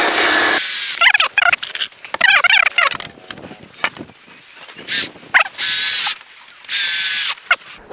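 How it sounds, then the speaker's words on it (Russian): Self-tapping screws driven into a wooden board during frame wall assembly: bursts of a power driver whirring and screws squealing into the wood, loud and close, with short pauses between. "Также фиксируем двумя саморезами."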